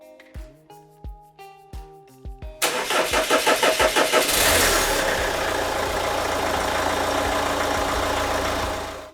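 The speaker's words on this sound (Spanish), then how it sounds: "Hemos visto que el motor ha arrancado bien." Car engine cranking on a Yaber jump starter, several rhythmic starter whirs preceded by dashboard chimes, then catching and settling into a steady, close idle.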